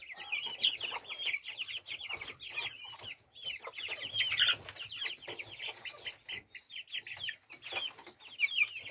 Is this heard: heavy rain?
no